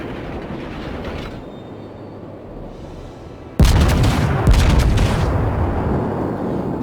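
The battleship Dunkerque fires a gun volley in the naval game World of Warships: a sudden loud boom breaks over a low rumbling drone, with a second blast and a sustained roar after it.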